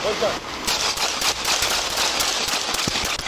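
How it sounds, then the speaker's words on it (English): Gunfire during a police encounter, a rapid burst of sharp, loud shots in quick succession, close and harsh, mixed with shouting voices. "Shots fired. Shots fired."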